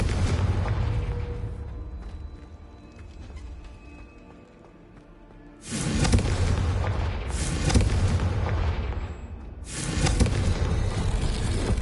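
A Confringo fire spell explodes in the Hogwarts Legacy video game, with heavy booming blasts bursting in after a quieter rumbling stretch, followed by a second loud impact.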